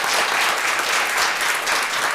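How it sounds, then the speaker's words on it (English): Audience members at a county planning and zoning meeting break into loud, sustained clapping, a thick wash of many hands filling the hall without any speech over it. "Please hold your applause."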